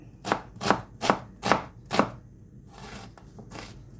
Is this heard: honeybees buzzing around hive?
no